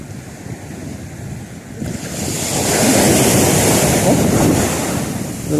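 Big sea waves surge and crash near the shore while wind buffets the microphone. The roar builds into a loud, sustained wash of surf and rumble, with no speech.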